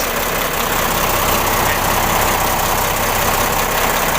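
A D6AB diesel engine idles loudly and close by with heavy blow-by, a constant rough rumble mixed with a broad hissing rush from the oil cap and breather that never changes.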